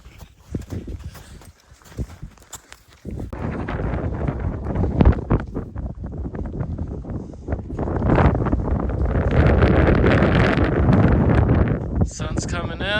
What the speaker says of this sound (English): A bit of windy. Look at that. Fast wind.